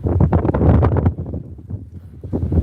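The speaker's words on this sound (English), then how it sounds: "if this wind is not drowning out my voice" Heavy wind buffets the microphone in loud, rumbling gusts while walking toward a beach, with no clear speech over it.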